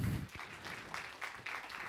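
Audience applause breaks out at a conference talk on virtual-reality emotion therapy, a steady wash of clapping from a moderate distance that holds for a couple of seconds without voices over it.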